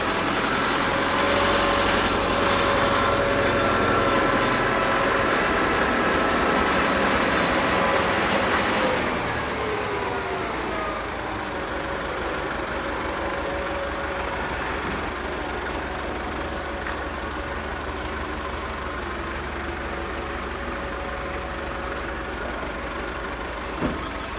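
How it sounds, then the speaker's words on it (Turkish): A tractor engine rumbles steadily while driving downhill in a village to collect brush, a low diesel drone with a rising whine that eases off midway and then settles into a quieter idle-like hum. "çalılar almak için aşağı doğru yanaşıyor."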